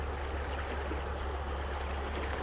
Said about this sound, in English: you can see the river is swollen